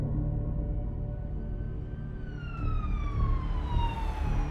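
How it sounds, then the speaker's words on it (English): Police car siren wailing on a residential street, a single rising and falling tone sweeping slowly downward, moderately distant and growing slightly louder over rumbling traffic noise. "Carter of the Lynette Police Department sped down Charlotte's residential street with his lights flashing and siren blaring."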